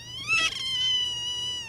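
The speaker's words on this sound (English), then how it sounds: "In one room, kittens hop in my lap and up on my shoulder." A kitten meows in a rescue home where kittens are kept, one drawn-out, high, tonal cry up close, clear and alone.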